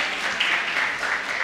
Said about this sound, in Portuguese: Uma salva de palmas para o nosso presidente